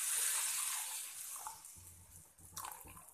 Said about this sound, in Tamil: சர்க்கரையை சேர்த்துட்டு இது கூடவே கொஞ்சமாக தண்ணி சேர்த்துக்கோங்க.